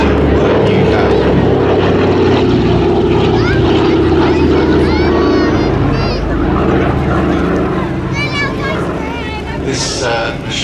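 A Douglas C-47 Dakota propeller transport, a D-Day veteran, flies past at an air festival, its loud steady piston-engine drone filling the whole stretch with a slight fade toward the end, crowd chatter and voices mixed underneath.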